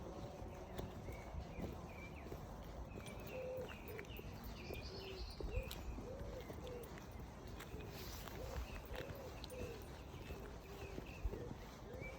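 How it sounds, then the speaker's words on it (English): Outdoors, a bird gives soft repeated cooing calls in a steady rhythm over faint background noise, fairly quiet, with other light rustling and scattered small sounds around it. "Look at that bird."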